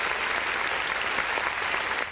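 A crowd at a live dance competition claps in a steady, dense burst of applause, loud and continuous for a couple of seconds.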